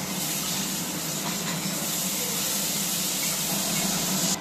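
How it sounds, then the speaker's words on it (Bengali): Steady soft hissing and sizzling of boiled chickpeas frying in hot oil, continuous and fairly quiet, with no talking. "এই তেলের মধ্যে আমি ছোলাটাকে আগে ভেজে নেব।"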